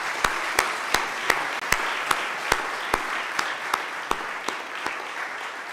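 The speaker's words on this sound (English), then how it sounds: "I would like just to ask an applause for all these artists coming also a very long way to join this opening here" An audience at an exhibition opening and panel discussion applauds the artists, producing a steady wash of clapping with distinct, regularly spaced louder claps from one nearby person punctuating it.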